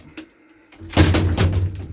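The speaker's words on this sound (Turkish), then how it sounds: "Kapı." Elevator door sliding shut in a residential building in North Macedonia, a short mechanical rumble and thud rising after a quiet pause, fairly loud and close, with no talking over it.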